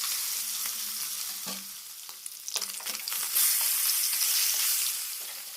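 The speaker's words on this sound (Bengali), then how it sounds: "বাকি মাছগুলো আমি একই রকমভাবে ভেজে নেব" Pieces of katla fish fry in hot oil with a steady, loud crackling sizzle throughout, swelling brighter near the end with occasional stirring clinks.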